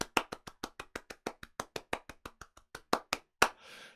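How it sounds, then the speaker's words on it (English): After a talk on infrastructure as code, a single pair of hands claps close by in a quick, even rhythm, about twenty claps, ending with one louder clap and a brief rustle. "please do join me in giving Dennis a huge round the world round of applause."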